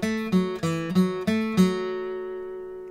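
Bluegrass guitar plays an alternate phrase from the second bar of the Chinquapin Hunting melody. About five crisp picked notes sound in quick succession, and the last note is left to ring and fade out, close and clear with no talking.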